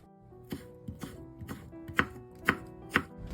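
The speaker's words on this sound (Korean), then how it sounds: "오이랑 고추도 썰어줍니다" A kitchen knife slices cucumber and chili peppers on a cutting board, a steady run of seven crisp chops about half a second apart, growing louder toward the end, with no voices.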